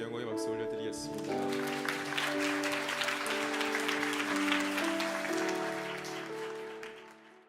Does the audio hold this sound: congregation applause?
yes